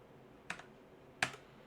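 Two separate, crisp keystrokes on a computer keyboard, the second louder, with quiet room tone between; no voices.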